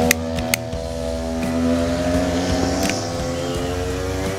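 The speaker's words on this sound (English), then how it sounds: "My neighborhood kids are riding their dirt bikes around." Dirt bikes ridden around a neighborhood, their engines a steady, continuous drone at a moderate distance, with a few sharp clicks near the start.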